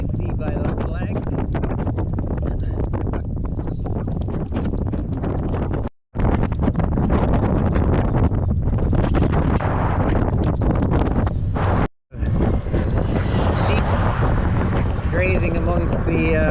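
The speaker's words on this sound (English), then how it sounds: "Fighting a headwind today," Heavy headwind buffeting the microphone on a dead-straight road while cycling in Portugal, a loud continuous roar and rumble with brief dropouts, no talk over it.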